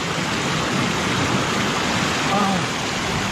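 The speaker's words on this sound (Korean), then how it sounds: "아, 물소리" Steady rushing water of an ankle-deep mountain valley stream fills the scene, loud and close, with a faint voice briefly audible beneath it.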